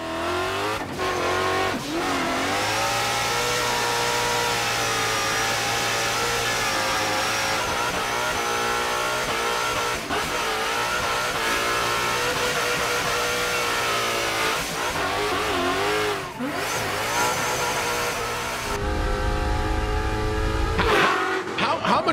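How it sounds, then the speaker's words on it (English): A 900-horsepower Ford Mustang drift car roars loudly and continuously as its engine revs, with rising and falling pitch, and a brief burst of tire squeal toward the end. "check out this other Ford performance video. It's Vaughn Gittin Jr.'s 900 horsepower Mustang"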